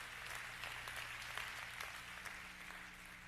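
A church congregation applauds steadily throughout, a faint, even wash of many hands clapping with no voices standing out.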